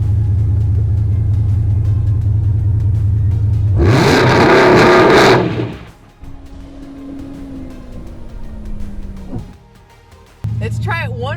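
A Dodge Hellcat Redeye makes a first-time burnout attempt. The engine idles with a deep rumble, then surges into a loud, roaring rev burst for about two seconds, drops back to a lower drone with a falling whine, and idles again. People talk throughout.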